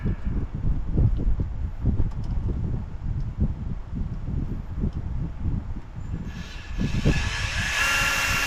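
A drill bores holes through a metal shock absorber bracket on a Brinkley RV during a Roadmaster shock install, giving a steady, close whirring grind with brief pauses and a brighter, higher-pitched stretch near the end.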